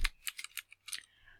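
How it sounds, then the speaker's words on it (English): Keys clatter on a computer keyboard as several quick, close keystrokes land in an uneven burst before a brief pause, with no speech. "we're going to type"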